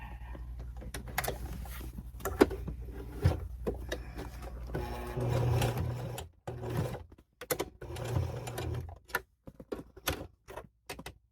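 A sewing machine stitches a handbag in short runs of rapid mechanical whirring and ticking, broken by pauses and the clicks of adjustments up close.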